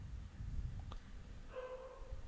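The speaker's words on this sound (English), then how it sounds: "I'm sorry if you are getting any background noise of dog barking." A dog barks faintly in the distance, with one short, quiet bark rising above a steady low background hum in an otherwise quiet room.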